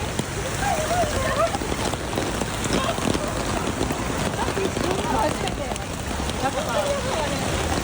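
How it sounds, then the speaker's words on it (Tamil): Heavy typhoon rain pours steadily in Kamakura, Kanagawa Prefecture, Japan, a dense, continuous hiss of rain on surfaces with water running, loud and unbroken throughout. "கனகாவா மாகாணம் காமகுரா பகுதியில் பலத்த மழை பெய்தது"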